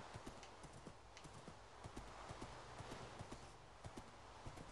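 Horse hooves clip-clop in the video game Minecraft, a quick uneven run of distinct knocks over a steady background hum, faint and with no speech.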